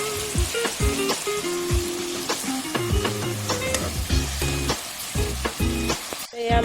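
Pigeon meat curry frying in a pan village-style, stirred with a utensil that clanks and scrapes repeatedly against the metal over a constant crackling sizzle, close and busy throughout.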